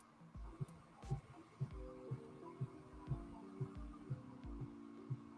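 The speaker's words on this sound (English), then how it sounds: "Who heartbeat is that? I don't want to hear nobody heartbeat." A steady heartbeat thumps in a regular double-beat rhythm, about two beats per second, faint but clear over a low hum, with no talking.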